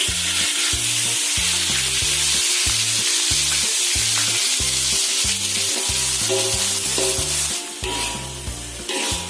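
Spice paste sautéing in three tablespoons of hot cooking oil for Betawi ketupat sayur gives a steady, close sizzle that runs under rhythmic background music.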